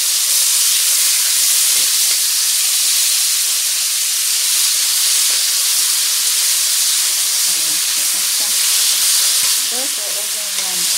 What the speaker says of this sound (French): je vais faire poêler tout de suite des morceaux de bœuf